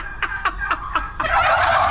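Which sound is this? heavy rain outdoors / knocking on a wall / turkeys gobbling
turkeys gobbling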